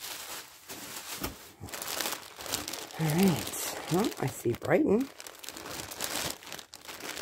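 Packing paper crinkling and rustling while a ThredUP jewelry box is unpacked, close and irregular, with someone talking over it.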